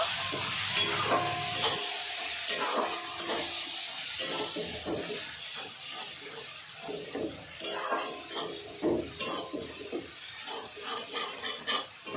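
Kashmiri red chilli powder and coriander powder being stirred into sizzling oil in a frying pan, with a spatula scraping and clinking against the pan in a busy rhythm over a constant hiss.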